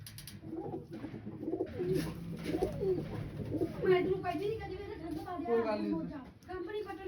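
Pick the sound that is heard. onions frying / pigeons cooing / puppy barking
pigeons cooing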